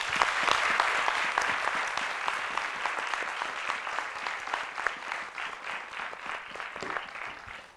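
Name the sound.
audience applauding guest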